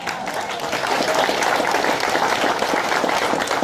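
Loud, sustained applause from constituents at a congressional candidate's town hall in Clark County, Washington, many hands clapping densely, starting slightly softer and then holding strong and even to the end.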